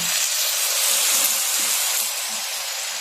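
Kale flowers sizzle in a hot wok after a splash of plain water, a steady, close hiss of steam and frying that holds through the whole moment.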